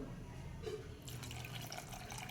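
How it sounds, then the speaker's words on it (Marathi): Water pours and splashes from a glass into a pot of cooking amti nearby, a soft continuous flow that turns brighter and more splashy partway through. "अजून मी एखादा पेला पाणी घातलेलं आहे याच्यामध्ये"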